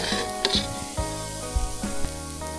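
Wild spiders fry in a pan with a bright, crackling sizzle, broken by a few sharp pops and scraping stirs, close and without voices.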